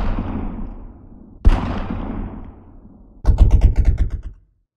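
Gunshots ring out with heavy echo in a Korean audio drama: a single boom, a second sharp blast, then a rapid burst of automatic fire that cuts off abruptly.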